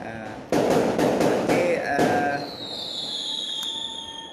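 Firecrackers go off outside on the night before Hari Raya Aidilfitri: a run of sharp, loud cracks in quick succession, followed by a fading hiss and softer background noise.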